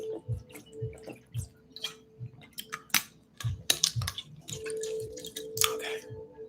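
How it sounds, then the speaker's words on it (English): A person sips water in a quiet room, giving a few soft slurps and swallows with small clicks and drips spread irregularly over several seconds, close and without speech, over a faint steady hum. "I'm just going to take a sip of water as I continue."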